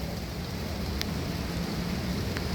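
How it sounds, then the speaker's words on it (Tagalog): Steady, dense rain pours down continuously, a broad hiss with occasional brief drips, fairly loud and close. "Ayan, umuulan, ang lakas ng ulan."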